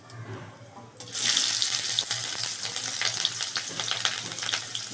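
Chopped onions hitting hot oil in a pan for a bele fish curry, a sudden loud hissing sizzle that starts after a quieter moment and then holds steady and close, with no talking.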